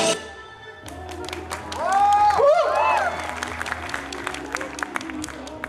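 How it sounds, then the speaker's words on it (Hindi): Audience applause at a sangeet celebration, a steady spread of clapping that swells in the middle and then tapers, with a tonal whistle-like sweep and cheering voices mixed in, and background talk underneath. "एक बार फिर से जोरदार तालियां हो जाए नीति और मदन के लिए।"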